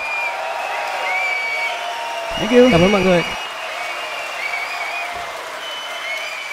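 A concert audience at a Rap Viet All-star rap and hip-hop show claps in a brief burst of applause. Someone speaks over it and keeps talking after the clapping fades.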